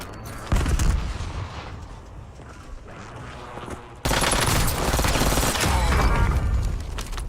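Video game firefight with a thrown Semtex grenade: rapid bursts of gunfire crackle and boom, then a sharp jump into louder, sustained automatic fire that keeps rattling to the end.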